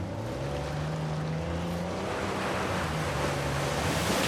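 A waterfall in Uncharted: Legacy of Thieves Collection sends out a dense, continuous roar of rushing water. Low droning tones hold steady beneath the broad wash throughout.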